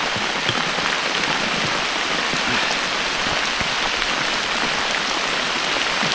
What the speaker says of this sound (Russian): летний дождь